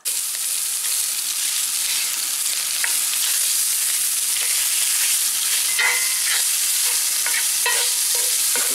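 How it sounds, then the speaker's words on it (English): Ground pork browns in a skillet just emptied of cooked bacon, giving a loud, constant close-up sizzle with scattered sharp crackles and pops over its full length. "brown up our ground pork"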